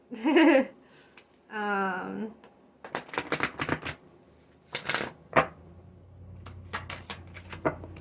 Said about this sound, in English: I need to start shuffling this deck more.